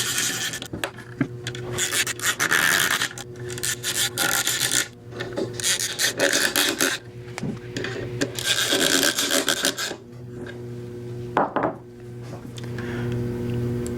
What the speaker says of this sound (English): Once you hear them start to ratchet, you know you're threading it in.